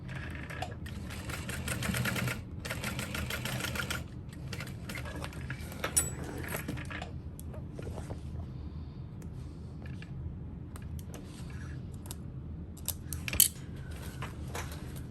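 A sewing machine bastes a backpack strap, its motor whirring in a continuous low mechanical hum with faint clicks, steady and fairly quiet throughout, with no voices.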